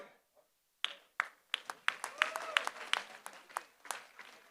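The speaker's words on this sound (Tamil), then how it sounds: "ஒரு பலத்த கைத்தட்டல் மக்களை." An audience at a talk by a motivational speaker breaks into applause after a brief quiet start, with scattered individual claps building into fuller, uneven clapping that stays moderately close.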